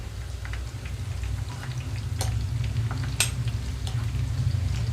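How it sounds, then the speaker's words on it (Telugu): Okra pakodi fry in oil on a medium flame with a steady, dense bubbling sizzle and a few sharper pops, close and unbroken throughout. "మీడియం ఫ్లేమ్లో ఉంచి చక్కగా వేయించుకోవాలి"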